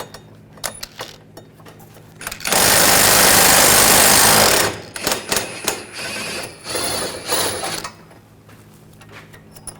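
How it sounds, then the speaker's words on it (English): A power tool runs in one loud sustained burst of about two seconds on a control arm bolt of a 2007-2013 BMW 328i, framed by short clicks and clanks of tool handling on the car. "Using an 18mm socket, we're going to take this bolt out."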